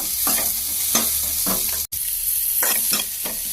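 Onions frying in a pan until brown, with a continuous close sizzle and several quick rhythmic scrapes of stirring, broken by a split-second gap midway.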